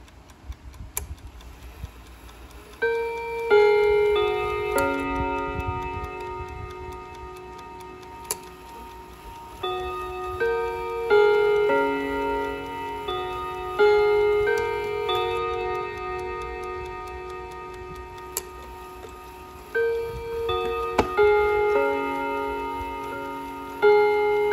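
An antique German bracket clock with raised gold numerals ticks softly under a gentle chiming melody of ringing tones that repeats in phrases, close and clear, with no voices.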